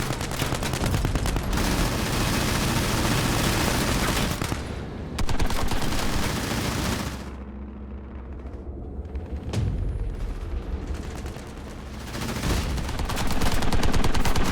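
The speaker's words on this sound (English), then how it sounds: "I'm getting hit from artillery up here." Heavy battle in Halo Wars 2 as artillery fire and rapid gunfire pound away in loud, dense volleys, easing briefly into a quieter stretch with scattered shots before the barrage swells again.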